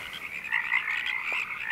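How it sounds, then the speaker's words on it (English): Frogs croak in a steady, fairly loud chorus, a continuous trilling drone with no voices over it. "she sees all these frogs on the road."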